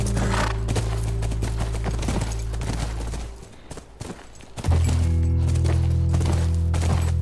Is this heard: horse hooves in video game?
yes